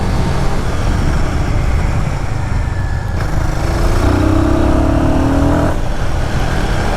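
A Royal Enfield Guerrilla Apex 450 motorcycle engine drones loudly and continuously while riding, buried under heavy wind rush, with a rising tone midway as it pulls harder.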